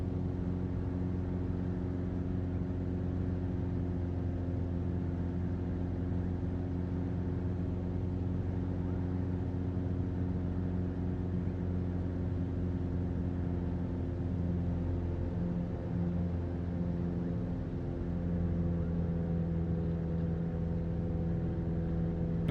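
Steady low droning of a propeller aircraft engine held at about 2,500 RPM in Flight Simulator 2020, a continuous humming rumble with layered tones, unchanging and alone throughout.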